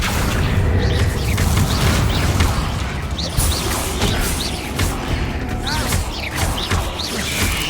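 The Confringo explosive spell in the video game Hogwarts Legacy lands as a string of heavy booms and crashing impacts, loud and close, repeating every second or so over a busy rumbling background.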